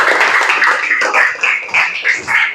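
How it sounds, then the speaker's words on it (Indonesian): Applause for a student group at the close of their classroom presentation, a steady run of dense, overlapping hand claps that carries at an even level throughout. "Beri tepuk tangan buat kelompok 4 ya"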